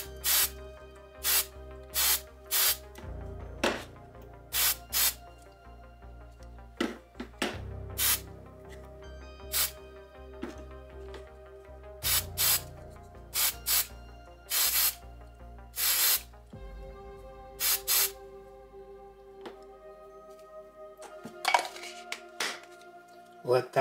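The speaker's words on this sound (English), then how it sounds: "And then I'm just gonna hit this with a little bit of hairspray." Short hairspray blasts hiss repeatedly over a crafting session making sci-fi rebreather and exhaust props from scrap, each spray a sharp burst with gaps between and occasional clinks of objects in the background.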